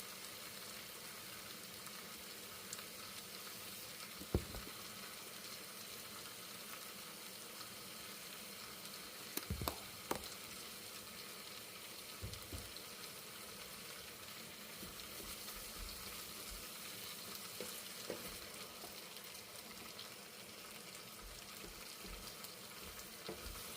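Ground beef and potatoes fry in a pan with steady soft sizzling and occasional scrapes and knocks of stirring, close and fairly quiet throughout.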